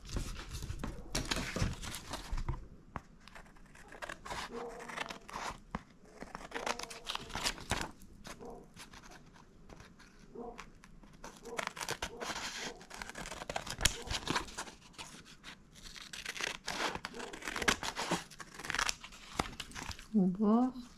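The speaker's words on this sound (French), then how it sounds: "Et je vais venir découper." Paper being cut and crinkled by hand while making a junk-style photo album, with continuous close rustling, snipping and tearing textures running throughout.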